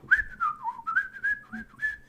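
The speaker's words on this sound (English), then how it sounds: "There we go. I can whistle." A person whistles a short wavering tune alone, a series of clear sliding notes in quick phrases, close and moderately loud.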